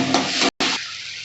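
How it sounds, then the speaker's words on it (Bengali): Spices with turmeric and salt sizzle and fry in a pan for a pea and shrimp curry while being stirred, a close, steady hiss with a short break and then a quieter sizzle. "ভালো করে কষিয়ে নেব।"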